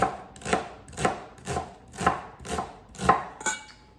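Knife slicing asparagus on a cutting board, about eight evenly spaced cuts in a steady rhythm, close and clear with no talk.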